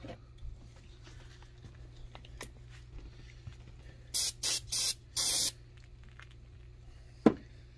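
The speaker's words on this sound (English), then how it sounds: "I just used some carb cleaner to get this stuff off of the plastic." Carb cleaner sprays onto the plastic parts of an Echo 351VL in four short, sharp hissing bursts against a quiet background, followed by a single brief knock near the end.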